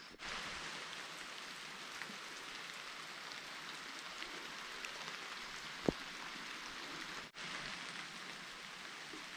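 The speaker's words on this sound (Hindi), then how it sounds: "और बारिश आई है मोहन खाल की तरफ से।" Steady rain falls in a hill village, a soft, even hiss of drops on surfaces that holds constant and fairly faint, with a brief break near the end before resuming.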